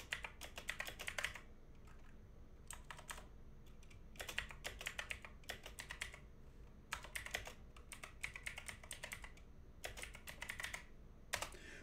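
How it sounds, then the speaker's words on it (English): Typing on a computer keyboard in quick bursts of clicking keystrokes separated by short pauses, close and fairly quiet, with no talk. "I'm not the best at typing."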